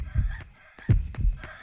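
Chicken in the Yomawari: Night Alone video game giving a few short, close clucks in a halting rhythm, several quick bursts spaced over a quiet background.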